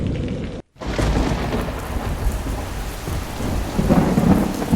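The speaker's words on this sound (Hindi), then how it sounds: "एक शाम अचानक घनघोर बारिश शुरू हो गई।" Sudden heavy rain in the evening pours down hard with deep rolling thunder, a dense loud downpour that barely lets up after a brief dropout near the start.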